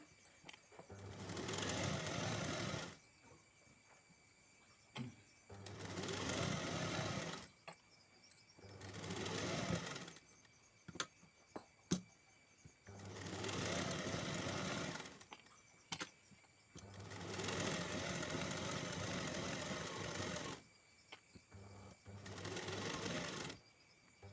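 A sewing machine stitches a lined blouse in five long bursts of steady whirring, each lasting a few seconds and separated by short quiet pauses, heard up close with no talking.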